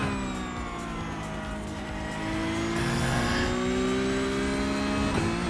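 A Porsche Cup race car in iRacing howls steadily at high revs with a rising, harmonic-rich engine note, loud and close, with a brief gear-change blip near the end.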